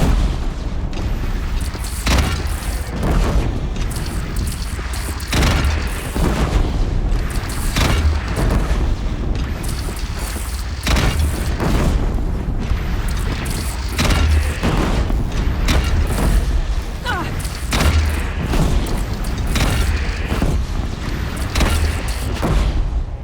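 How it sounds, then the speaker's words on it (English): Heavy cannon and gunfire from a battle against a bandit clan in the Horizon Zero Dawn video game, with loud repeated booms and blasts thudding irregularly over a constant dense roar of combat for the whole stretch. "They only have one cannon!"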